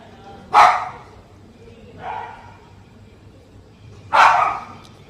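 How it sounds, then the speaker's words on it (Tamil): Dogs barking outdoors, among them six-month-old pups and a house-raised dog now left on the street; three separate bark bursts, two loud and near with a fainter one between, over a steady low background. "இது வீட்டில் வளர்ந்த நாய்."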